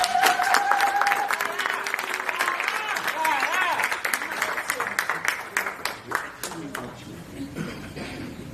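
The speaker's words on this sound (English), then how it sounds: "Round of applause, coach." A crowd claps and cheers to welcome a provincial MEC onstage at a public event, steady dense applause running throughout with voices and whoops mixed in, easing toward the end.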